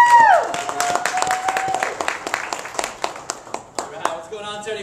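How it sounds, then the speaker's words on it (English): Clapping from a church congregation breaks out as a pastor is welcomed, with individual hand claps standing out loudly while a melodic tone and background music sound beneath. "Everybody give me a round of applause."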